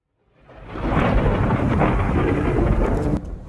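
A nor'wester thunderstorm with loud rolling thunder and heavy rain swelling in quickly, then rumbling on steadily before easing near the end.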